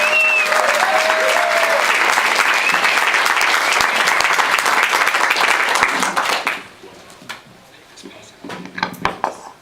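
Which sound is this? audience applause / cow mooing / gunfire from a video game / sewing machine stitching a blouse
audience applause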